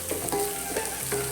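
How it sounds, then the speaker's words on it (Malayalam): Washed dried prawns sautéed in a pan, crackling with a steady sizzle and a few soft rhythmic stirring scrapes, close and fairly quiet, with no speech. "ഒന്ന് വഴറ്റാം. ഒരു 2 മിനിറ്റ് ഒന്ന് വഴറ്റാൻ മതി."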